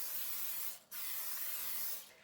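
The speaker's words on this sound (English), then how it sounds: "I'm just using a canola oil cooking spray." Canola oil cooking spray hisses into cake pans in two close bursts, a brief gap between them and the second trailing off, soft and alone.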